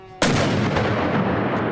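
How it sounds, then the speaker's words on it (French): A black-powder cannon loaded with a double charge fires once with a sudden, very loud blast whose roar fills the space and then slowly dies away. "il double la dose de poudre noire. Le canon est chargé!"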